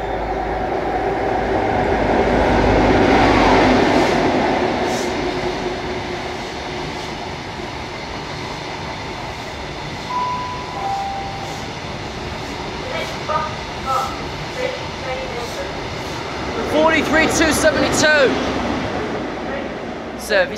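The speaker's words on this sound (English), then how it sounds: "Now pulling through for VTEC, your 10:42 on Sierra 11 from Kings to Aberdeen." A train pulls through Lincoln Central station, heard as a steady rumble that swells early and then eases, with wheel squeals and clatter near the end, and a station announcement heard faintly in the background.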